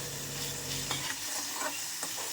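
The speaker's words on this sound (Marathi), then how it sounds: "पूर्ण मसाला फ्राय करून घ्यायचा." Masala for Maharashtrian hotel-style egg curry fries in oil and is stirred, a close, dense sizzle broken by several quick scraping strokes of the spoon against the pan, with no voices.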